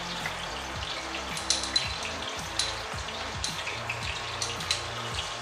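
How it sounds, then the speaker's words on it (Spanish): Garlic frying in oil that is not very hot, a steady close sizzle with small popping crackles, and occasional clinks as it is stirred. "En este aceite, no tan caliente, no debe estar muy caliente, vamos a adicionar el ajo."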